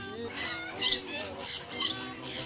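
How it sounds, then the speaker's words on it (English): Colorful parrots calling in a cage area at a parrot farm, a series of bright, harsh squawks and chirps in quick succession, moderately near and fairly loud, with two sharper peaks standing out. "hearing the sounds of the colorful birds can be a very relaxing and a pleasant experience"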